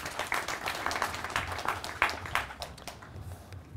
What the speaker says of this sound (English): I would like us quickly to just give everyone a round of applause on that